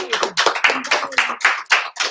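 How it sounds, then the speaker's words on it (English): Audience applause at an auction, a brisk burst of several hands clapping close by in uneven quick bursts, loud and with no talk over it. "But big round of applause for Kathy."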